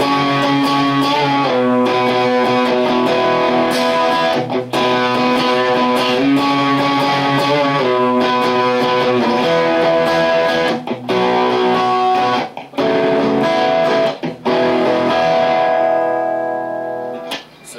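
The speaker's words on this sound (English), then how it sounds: "it starts off using octaves with a lot of distortion" Heavily distorted electric guitar plays ringing octave chords with sustained harmonics, loud and continuous with brief gaps between phrases, in a song lesson.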